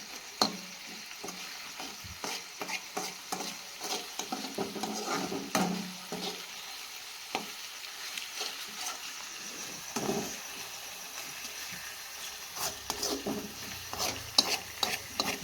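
A chili gravy of green chilies, green and dried garlic and coriander fries in hot oil for a Kathiyawadi garlic potato dish, sizzling steadily while a spoon scrapes and stirs the pan repeatedly throughout.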